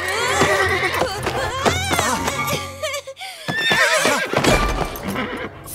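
A Playmobil cartoon horse whinnies repeatedly in loud, wavering calls, with hoof clatter and a brief pause midway.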